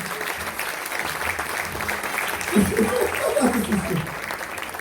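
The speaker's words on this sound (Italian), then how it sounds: "Un applauso." An audience applauds at the end of a stage comedy performance, steady clapping with a voice speaking over it partway through.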